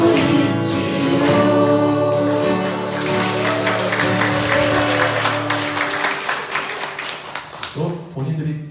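Applause from participants at a Catholic church devotional education session right after they finish singing a hymn. Sustained singing fades into a burst of scattered clapping toward the end.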